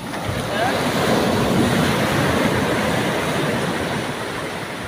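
Rough sea surf crashes and washes continuously onto a beach in Portugal, a loud, dense roar of breaking waves with wind buffeting the microphone.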